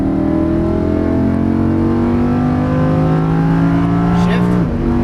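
Lamborghini Huracan LP610-4 V10 engine accelerating hard on a track, a loud, close, steady rising roar with climbing harmonics that drops sharply at a gear shift near the end.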